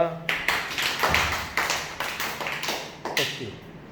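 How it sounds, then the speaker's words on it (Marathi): A classroom of first-grade schoolchildren claps in a quick, uneven burst of sharp, close slaps that repeat across a few seconds, with background voices mixed in. "टाळ्या वाजवा"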